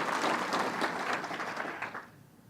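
A crowd applauds at a governor's state fair task force event, dense sustained clapping at a moderate distance that gradually thins and tapers off toward the end.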